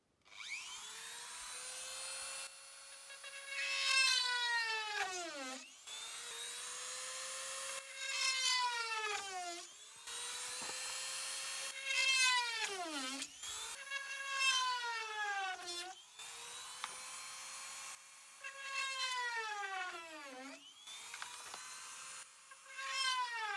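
A drill repeatedly revs up and bores into wood while building a wooden house, each whining burst dropping in pitch as it bites, about five passes with brief pauses.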